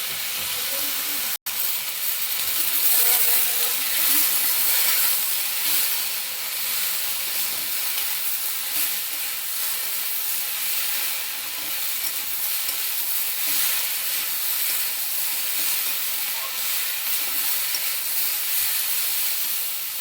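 Vegetables fry in a pan seasoned with salt and turmeric, giving a steady, close sizzle and hiss with occasional stirring, continuous throughout with no talking.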